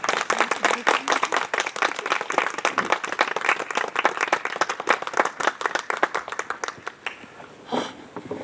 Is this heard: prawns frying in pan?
no